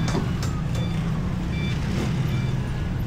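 Steady road traffic on a busy street in Pasong Kawayan 2, General Trias, with a continuous low rumble of passing vehicles, a faint beeping at times, and no talk.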